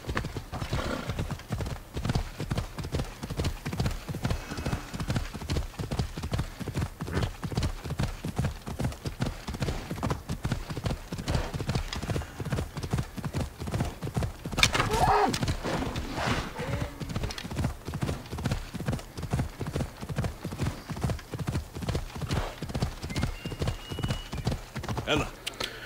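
A horse's hooves clip-clop steadily and fast throughout Assassin's Creed: Origins gameplay, with a brief louder burst like a neigh midway.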